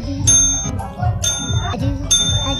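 A Lhasa Apso dog rings a small bell repeatedly to demand food, giving bright metallic dings in quick succession, close and loud.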